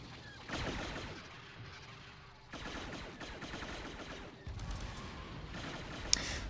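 A turret in a Star Wars strategy game fires repeatedly in a tournament match, producing faint, dense bursts of rapid blasts that rise and fall amid other battle noise.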